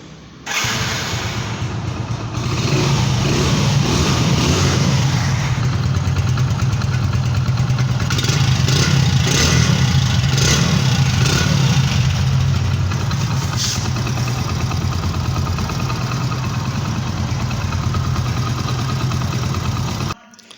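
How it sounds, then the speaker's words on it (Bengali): A 2023 Hero Splendor motorcycle engine idles steadily up close, with a few revs in the middle, loud and continuous before cutting off at the end. "এবার আমরা বাইকটির প্রাইস সম্পর্কে জানার আগে বাইকটির সাউন্ড কোয়ালিটিটা দেখব।"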